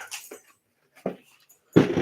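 A riled-up dog whimpers and yips in a few short, soft bursts, with gaps of silence between them and a louder final whine. No one speaks.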